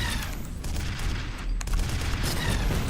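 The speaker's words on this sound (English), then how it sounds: "Or detonate it with the explosion of our grenade launcher." A grenade launcher round exploding in the horror shooter F.E.A.R., a loud, continuous booming blast with rumbling low-end and crackling debris that fills the whole stretch, close and dense.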